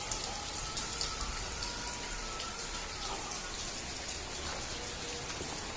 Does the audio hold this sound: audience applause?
no